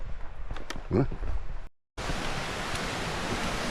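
Steady broadband rushing of a mountain stream fills the scene after a brief gap, with people talking over it at the start, on a hiking trail on Songnisan, Korea.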